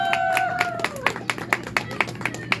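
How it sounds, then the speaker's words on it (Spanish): Party guests clap together in a steady series of sharp, evenly spaced claps, fairly close, with a voice or tone held briefly at the start. "¡Aplausos para la tercer gatita!"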